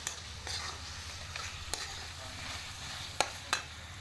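Masala spices tipped into a hot frying pan with chicken sizzle steadily in a low hiss, broken by a few sharp clicks of a spoon against the pan.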